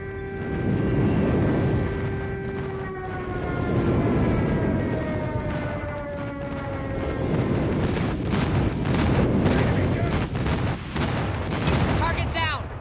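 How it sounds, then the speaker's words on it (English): Airstrike explosions in Call of Duty Mobile, a continuous rumbling barrage of booms and gunfire beneath descending whistles of incoming ordnance, loud and dense throughout, with game voice callouts over the top. "Friendly airstrike incoming."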